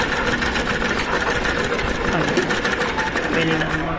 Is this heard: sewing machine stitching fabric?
yes